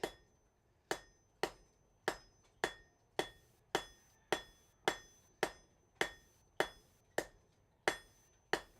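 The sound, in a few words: hammer forging thin steel leaf in the smithy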